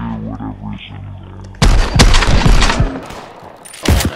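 Gunfire in Contractors VR with a WW1 mod: a burst of loud, rapid rifle and machine-gun shots breaks out after a quiet spoken opening, with more shots near the end.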